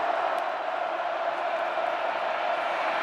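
Sellout crowd of nearly 87,000 roaring at a college football stadium in Nebraska, a dense, steady wall of cheering that stays loud and unbroken throughout.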